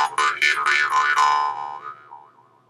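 A plucked jaw harp twangs in quick repeated strokes while the player breathes hard in and out, its wah-like resonance sweeping and then fading to a softer wobble near the end, close and alone.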